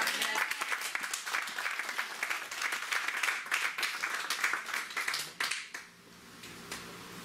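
A church congregation breaks into sustained applause, dense rapid clapping from many hands that fades out toward the end, with faint voices mixed in.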